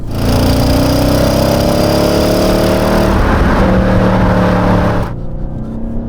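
A B7 Audi RS4 engine revs up loudly and continuously, pulling hard with a steady rising drone, then the tone shifts and eases near the end.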